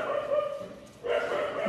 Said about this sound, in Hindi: अरे यार ये कुत्ते क्यों भौंक रहे